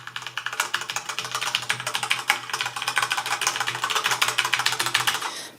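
Rapid, continuous typing on a Corsair mechanical keyboard with Cherry speed switches, close and crisp with dense overlapping key clicks and a faint steady hum beneath, no voices.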